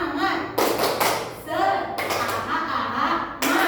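A group clapping game called tepuk semangat plays out in bursts of hand claps and slaps in a chanted rhythm, loud and close, with voices chanting along between the claps.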